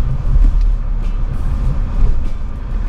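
A 2024 Ram Rampage pickup's engine drones low and steady off-road, a continuous rumble with slight swells as the throttle is pressed, no voices over it.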